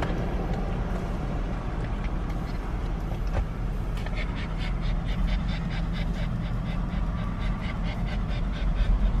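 A dog pants in quick, steady rhythmic breaths inside a car stopped at a vacation lodge entrance booth, with a constant engine and road rumble underneath.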